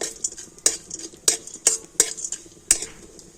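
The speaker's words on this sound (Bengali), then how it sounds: "তো জিরে আর ছোলার ডালটা একটু ভেজে নেব" Cumin seeds and chana dal frying in a pan, stirred with a metal spoon that gives sharp repeated clinks and scrapes against the pan over a faint sizzle, close up with no talking.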